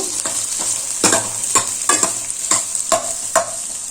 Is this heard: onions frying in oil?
yes